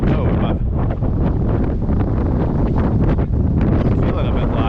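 Wind gusts across the River Spey at Arndilly in February, a loud, steady buffeting roar against the microphone that persists throughout, with a voice occasionally heard under it.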